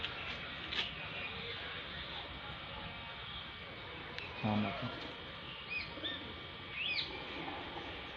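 Pakistani pigeons with colored markings coo softly in a loft, low murmuring calls and a few chirps rising now and then over a constant background hum, fairly faint and distant.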